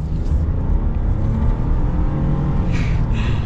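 A 2022 Ford F-150 PowerBoost hybrid pickup accelerating in sport mode, a steady deep engine rumble and road roar heard from inside the cab, loud and continuous without talk.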